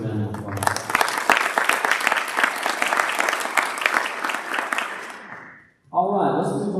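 A school board meeting audience applauds a student award winner with dense, loud clapping that runs for about five seconds, then stops and a voice begins speaking.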